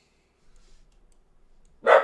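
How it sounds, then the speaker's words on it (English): A single loud dog bark cuts through a nearly silent room after a few faint clicks and rustles. "Max is barking right in time for the elevator"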